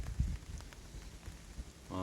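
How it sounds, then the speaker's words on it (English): Steady rain falls at a hammock campsite in the woods as wind picks up, a soft, continuous patter on surfaces with a dull thump at the start and a faint voice near the end. "And you know, it's rainy."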